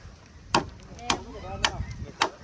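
Four sharp chopping blows sharpening a bamboo stake, evenly spaced about half a second apart, close by, with faint background noise between strikes.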